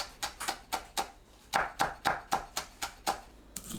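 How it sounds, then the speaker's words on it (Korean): A knife chops green onion and cheongyang chili on a cutting board in about fourteen crisp, evenly spaced strokes, close and clear with no voices. "파를 작게 썰어줍니다. 청양고추를 씨 빼고 작게 썰어주세요."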